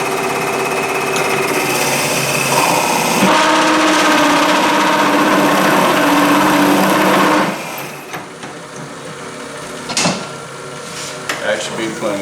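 A router bit cuts a cove, giving a loud, steady high-pitched motor whine with a cutting rasp for about seven seconds. It then shuts off, followed by scattered handling knocks.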